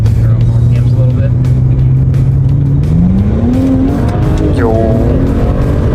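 Tuned car with anti-lag loudly accelerating in first gear, wheels slipping, engine note rising steadily over several seconds with a brief voice at the end.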